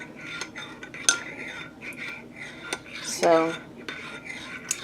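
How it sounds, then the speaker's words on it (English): A spoon stirring maple syrup into golden milk in a cup, light clinks and scrapes against the sides with a couple of sharper taps, close and quiet, with a brief spoken word. "I'm going to mix my maple syrup in."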